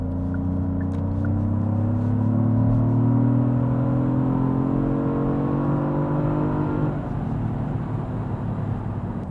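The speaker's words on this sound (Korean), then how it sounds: "이 정도의 이제 배기음을 인위적으로 내주는데" A Genesis GV80 Coupe SUV produces an artificially enhanced, V8-style booming exhaust note: a loud, steady, droning engine sound held for several seconds that eases off near the end, with no talking.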